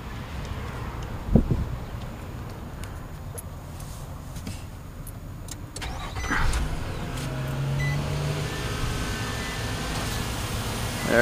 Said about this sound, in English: It does have the windows that go down in the sliding door. They go down just like a regular car window.